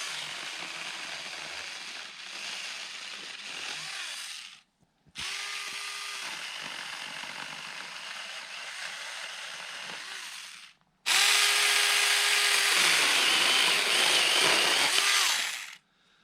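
Saker cordless mini chainsaw cutting wood in three separate bursts, each a steady high buzzing drone with brief pauses between, the last burst louder and harsher as it bites into the log.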